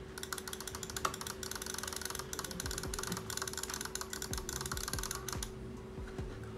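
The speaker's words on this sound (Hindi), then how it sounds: "अब लॉजिटेक को कंपेयर करते हैं, लेट्स सी इसमें हम कितने क्लिक कर सकते हैं 5 सेकंड में।" A Logitech G304 wireless gaming mouse button is clicked rapidly and steadily for several seconds, a dense run of sharp, close plastic clicks that stops abruptly near the end, with no talk.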